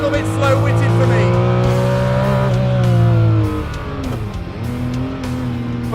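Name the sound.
Ferrari sports car engine revving on track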